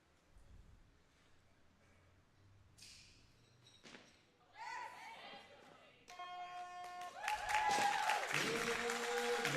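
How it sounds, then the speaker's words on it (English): Spectators at a weightlifting championship cheer and clap for a lifter from the side, the crowd noise building from scattered thumps and shouts to a louder, sustained roar by the end. "you can hear those loaders just cheering him on from the side"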